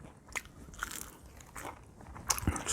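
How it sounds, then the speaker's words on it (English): Crisp bites into crunchy Kroger fried chicken, several sharp crunching bites spread through the moment, the loudest near the end, close to the mic with a quiet kitchen background and no talking. "Chicken is crunchy. This is Kroger fried chicken, not mine."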